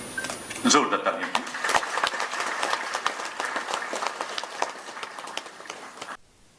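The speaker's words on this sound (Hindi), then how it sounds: "जोरदार तालियां।" Applause from a seated audience at an official Jammu and Kashmir government function, a sustained burst of many hands clapping for several seconds, beginning loud and tapering slightly before cutting off abruptly.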